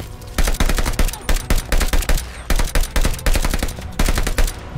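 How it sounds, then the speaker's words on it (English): Dense, rapid bursts of enemy gunfire in the shooter Call of Duty: Vanguard, loud and close, with shots crackling in quick clusters separated by brief gaps. "Oh shucks, I'm getting shot."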